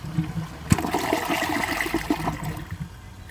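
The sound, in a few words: WaterRidge one piece toilet flushing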